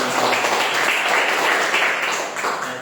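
Classroom audience clapping for a student group after a presentation, a dense, fairly loud burst of applause that slowly fades toward the end.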